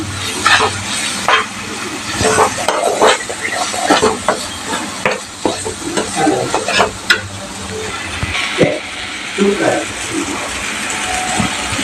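Spices sizzle and crackle in oil in a hot pan for an eggplant curry while a utensil stirs and scrapes against it in irregular bursts.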